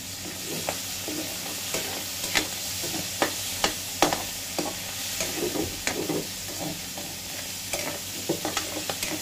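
Pork fat toasts in a little oil in a pan, sizzling underneath while a utensil scrapes and stirs it in irregular sharp clacks, close and fairly loud with no talk.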